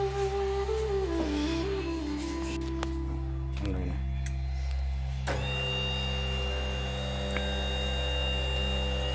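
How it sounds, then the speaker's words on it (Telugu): An oil press machine extracting oil from seeds runs with a steady, loud mechanical hum and whine of tonal drones, and a brief clattering burst partway through before the motor settles into a higher, continuous whirring tone. "లోపల మిషన్ స్టార్ట్ అయింది."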